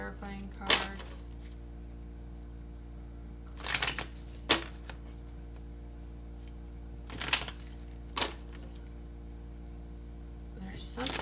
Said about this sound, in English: I'm gonna reshuffle these actually real quick. These are the clarifying cards.